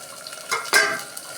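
Fish curry with tomato frying in a pan, a soft background sizzle broken by a couple of brief stirring scrapes and a clink of a utensil against the pan, no voice.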